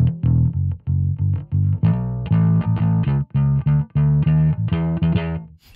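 Bass guitar played through a Two notes Genome 1.5 amp simulator on input 2, giving a loud, distorted, gritty tone with a run of punchy repeated notes and a short melodic phrase, heard alone.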